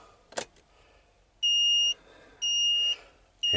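Three loud, evenly spaced electronic alarm beeps sound from a camper van dashboard as the ignition is switched on, each a steady high tone lasting about half a second, with a faint click just before.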